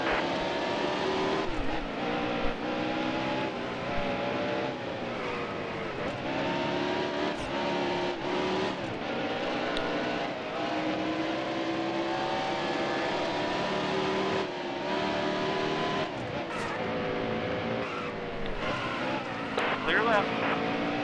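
NASCAR Heat Evolution race car engine howls continuously at high revs on track, with steady pitch sweeps as it shifts and other cars pass, sustained loud throughout while a voice talks over it.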